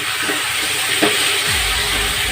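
Goat mutton for a Bengali jhol fries over a low flame while being stirred, giving a loud, steady close sizzle and hiss with an occasional soft scrape of the spoon.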